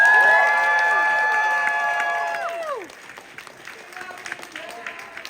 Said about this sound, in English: One more please, huge round of applause